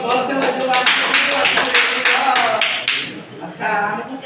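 Students in a multigrade class 4 and 5 math lesson clap loudly together in a rhythmic burst of claps, with voices mixed in over the clapping.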